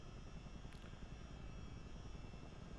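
A CH-47D Chinook twin-rotor helicopter in Microsoft Flight Simulator, flying near Krakow, gives a steady, dense engine and rotor drone that holds an even level throughout with no talk over it.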